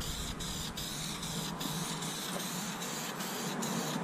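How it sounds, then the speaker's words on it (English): A continuous hiss of a spray paint can spraying a car cowl hood, steady and close, with faint rhythmic pulses and no talking. "We're gonna spray this thing."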